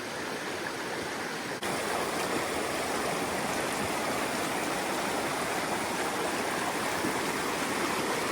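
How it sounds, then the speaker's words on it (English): Bemis Stream on the Appalachian Trail rushing fast but shallow, a loud, dense, unbroken roar of moving water close by. "we made it to Bemis stream, and it's flowing pretty quick"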